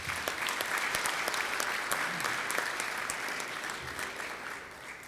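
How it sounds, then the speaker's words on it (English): Members at a Rotary club meeting giving a hearty round of applause, dense and sustained clapping that fills the room and tapers slightly toward the end. "Let's give him another round of applause."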